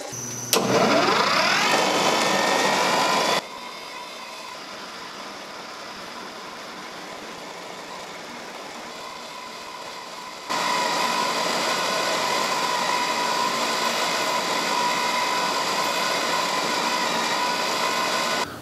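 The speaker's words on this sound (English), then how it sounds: "the first thing we need to do is prepare the stock by putting a hole in it" Power drill boring a hole in metal stock for a clamp, starting with a loud high whine that drops to a lower steady hum, then rises again into a sustained grinding drone, close and continuous.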